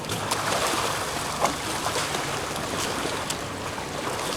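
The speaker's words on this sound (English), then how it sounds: "the waves are wrapping around the little break and heading straight for us" Waves slap and wash against the hull of a sailboat anchored in a Rarotonga harbor, a steady broadband rush with occasional louder slaps, close and continuous with no voices.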